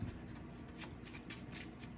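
Yu-Gi-Oh trading cards being shuffled by hand, soft papery riffling in repeated quick bursts, close and fairly quiet.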